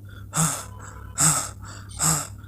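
Three sharp, breathy gasps for air come at even intervals, close and fairly loud, separated by quiet pauses, with no speech.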